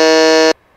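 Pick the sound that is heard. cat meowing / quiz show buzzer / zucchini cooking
quiz show buzzer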